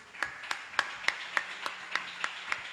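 Faint, evenly paced clapping from a church congregation applauding the Lord Jesus during a worship service: roughly nine soft claps in a steady beat over low room noise.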